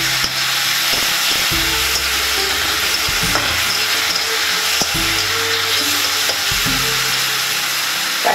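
Mushrooms and onions frying together in a pan, a steady broad sizzle running throughout with occasional stirring scrapes and low knocks, close and fairly loud, no talking.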